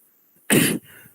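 One sharp, loud cough bursts out close up after a moment of silence, followed by a faint breathy trail.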